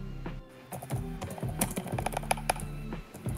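Rapid computer keyboard typing coming through a player's open mic during a Strongest Battlegrounds game session, a dense, steady stream of close key clicks with no pauses.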